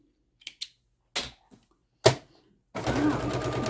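A sewing machine stitching pieces of fabric scraps together, starting with a few short separate clicks and thumps before settling into a steady close whirring run.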